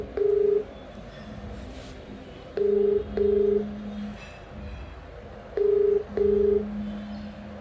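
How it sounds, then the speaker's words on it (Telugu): Dialing tones from a phone on speaker ring out in paired short beeps, three clusters of two tones each separated by pauses, fairly faint over a quiet room. "ఒకసారి ఫోన్ చేయాలి."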